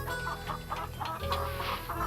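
Chickens cluck on the farm in Nancy Drew: Secret of Shadow Ranch, a quick run of short, close, repeated clucks over a steady background hum, with no speech.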